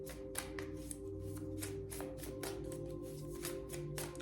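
Tarot cards are shuffled in a quick, steady rhythm of papery riffles and flicks, close and clear over a faint constant hum with a few tonal background lines.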